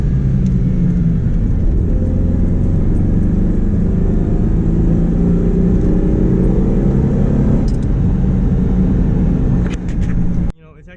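From inside a 2000 Ford Mustang, its 3.8-liter pushrod V6 pulls hard in first gear with a loud, steady rumble and a slight whine, cutting off abruptly near the end.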